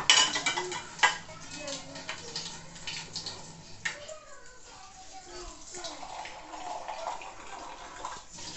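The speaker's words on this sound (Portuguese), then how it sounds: "Tá quase terminando a louça." Dishes being washed by hand, with clinks of plates and cutlery and running water clattering intermittently near the sink, while a voice talks over it.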